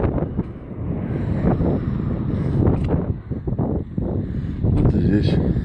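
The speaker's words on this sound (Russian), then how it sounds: "Погода красивая. Хороший ветерок" Wind blows hard against the microphone on a bridge at Mustvee during fishing on a late-March day, with uneven rumbling gusts throughout and some faint voice underneath.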